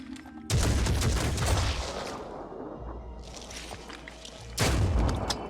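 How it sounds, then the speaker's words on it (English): Heavy shotgun blasts and crashing destruction from the turn-based game Phoenix Point as a building is wrecked, two loud bursts of gunfire and debris framing a quieter rumbling stretch, with no talk over it. "We are using a lot of shotgun ammo and wrecking this building"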